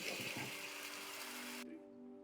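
Water pours from a freshly rinsed mixer jar into a cooking pan, a steady splashing stream that stops abruptly and leaves a faint low hum behind.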